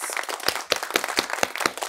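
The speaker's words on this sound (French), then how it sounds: "Tom ramasse la clé et ses amis applaudissent." A group of friends claps in quick, uneven applause, close and lively, with roughly a dozen sharp hand claps over a couple of seconds.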